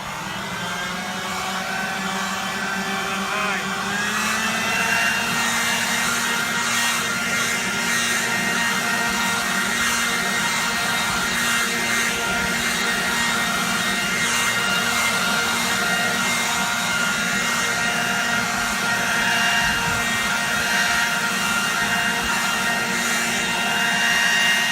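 Worx WG510 2-speed electric leaf blower vacuum mulcher running on low speed in blowing mode: a steady, loud motor whine with a constant rushing airflow roar, starting and holding level for the whole stretch, no talk.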